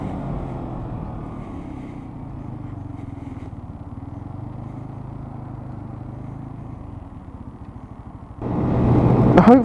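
A motorcycle engine drones steadily while riding, with wind rush, then revs up louder near the end.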